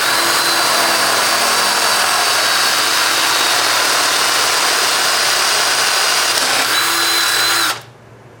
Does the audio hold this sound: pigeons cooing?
no